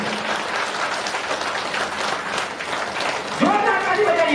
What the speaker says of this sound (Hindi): अब ताली बजा के दिखाइए